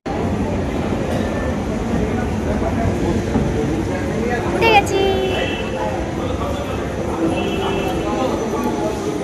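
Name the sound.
metro train arriving at the station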